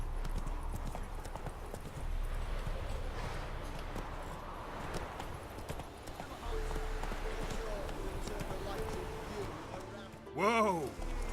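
Roach, Geralt's horse in The Witcher 3: Wild Hunt, gallops with steady rhythmic hoofbeats close by over ambient game sound, ending with a short loud whinny near the end; a voice can be heard faintly.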